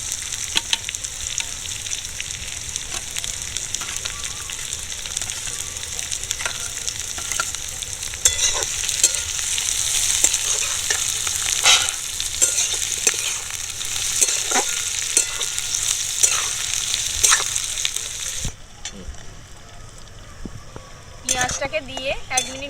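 Chopped capsicum and onion stir-frying for veg manchurian: a constant crackling sizzle with frequent scrapes and clinks of a utensil against the pan, close up. The sizzle swells midway and then drops to quieter stirring near the end.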